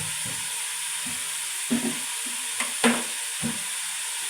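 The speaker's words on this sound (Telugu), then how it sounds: "ఆయిల్ అంతా దీనికి మటన్కి పట్టేలాగా బాగా కలుపుకోవాలన్నమాట." Mutton pieces coated in oil and turmeric sizzle in a pan under a steady frying hiss, while a spoon stirs and scrapes in several distinct, close strokes, with no talking.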